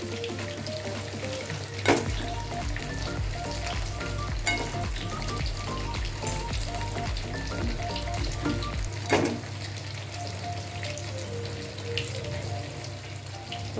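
Fish pieces fry in a pan with ground mustard, poppy seed and green chilli paste, a loud continuous sizzle under a low steady hum, punctuated by two sharp utensil knocks and occasional light scrapes, with no one talking.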